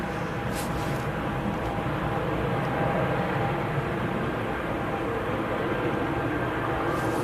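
A Swiss airliner bound for Zurich departs Manchester Airport, its jet engines a loud, continuous broadband roar that holds steady throughout.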